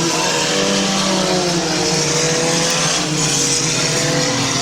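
Race cars roar around the dirt oval at Midvale Speedway in the final laps, engines loud and constant with layered revving as the pack passes close by.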